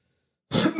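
After half a second of silence, a single loud, close cough or throat-clearing bursts out and rasps briefly.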